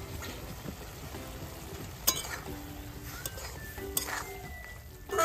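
Chopped onions sizzle in a pan with lentils, a soft steady frying hiss under scattered sharp clinks and scrapes of a spoon stirring against the metal.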